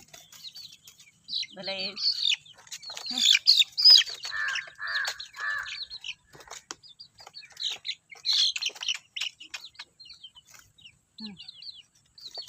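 Young chicks of a chicken breed known as peacock chicks chirp in bursts of thin, high peeping over several seconds, with faint bird rustling in between.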